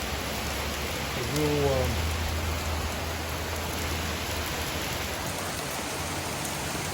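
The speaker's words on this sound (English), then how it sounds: "we're getting some good rain right now" Good steady rain falls on a grassy yard, a constant close hiss of drops, with someone speaking briefly near the start.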